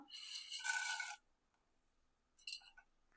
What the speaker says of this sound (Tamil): ஓகே ஃப்ரெண்ட்ஸ், இப்போ நம்ம கடலைப்பருப்பு போடலாம்.